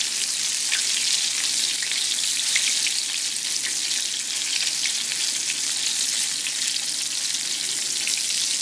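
Chicken strips breaded in pancake mix frying in a pan, a dense continuous hiss of bubbling oil with fine crackles, close and steady throughout with no talking.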